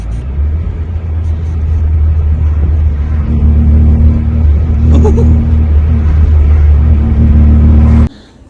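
A tuned car pulls away from a yard, its engine rumbling loudly and building in pitch as it accelerates, then cuts off abruptly near the end.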